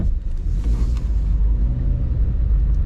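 A 2015 Subaru Forester with newly replaced brakes and CV joints drives through a big turn, giving a steady, close low engine and road rumble with no clicking or grinding.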